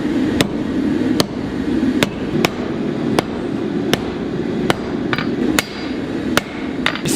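Hot bronze being hand hammered while forging a dagger, a regular series of about ten sharp metallic blows with a deep thud, spaced under a second apart over a constant roaring forge background.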